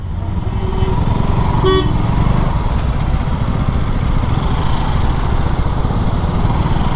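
Road vehicles pass close by with a loud, continuous engine rumble and a brief horn toot partway through, steady throughout with no voices.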